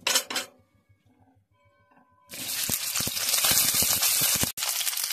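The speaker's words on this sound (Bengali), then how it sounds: "সরিষার তেল দিয়ে আমি ঢেঁড়সগুলোকে হালকা করে ভেজে নেব।" Okra fries lightly in mustard oil in a wok, a loud, dense sizzle that bursts in suddenly after a few metal clinks and a quiet gap, then holds steady.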